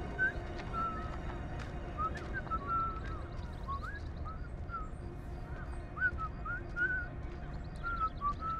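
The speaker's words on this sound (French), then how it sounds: "Pourquoi tout le monde siffle?" In the war horror video game House of Ashes, characters whistle faint, short, scattered tones, repeating irregularly over a steady low rumble of ambient noise.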